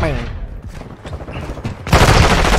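Rapid gunfire in the Modern Warfare 2 beta crackles in bursts, ending in a loud, dense volley, with some talking mixed in.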